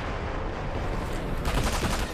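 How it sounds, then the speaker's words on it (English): Rapid gunfire from the video game Sniper Elite V2, a steady dense rattle of shots that grows louder and sharper toward the end, with no talk over it. "Who's shooting you?"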